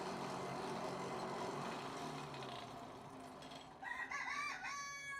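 Bantam chickens crowing and clucking beside a blacksmith's forge, faint clucks under a low mechanical hum, then a clear rooster crow near the end.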